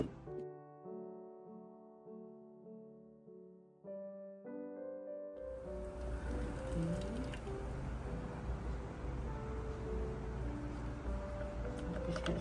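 A blender whirs loudly as it purees pandan leaves with full cream milk, kicking in after a few seconds of quiet tonal music and then running steadily and close to the end.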